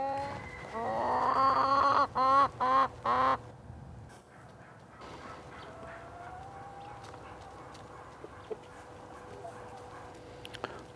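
Hens with bubbly eyes and runny nares cluck loudly and close at first in a few sharp, repeated bursts, then fall quieter with fainter clucks and background noise.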